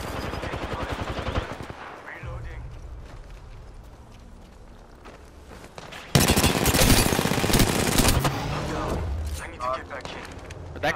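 Gunfire in Apex Legends, with scattered shots early on and then a loud burst of rapid automatic fire midway, mixed with other game sounds.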